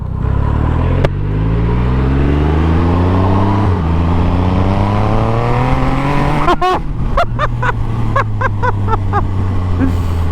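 A loud supercharged 340 bhp Triumph Rocket 3 motorcycle engine revs up through rising gears, then drops to idle and blips the throttle in a rapid series of sharp revs.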